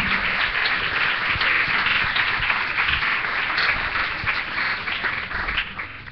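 A church congregation claps for the Lord in a dense, continuous burst of many hands, loud and roomy, sustained for several seconds with no speech over it.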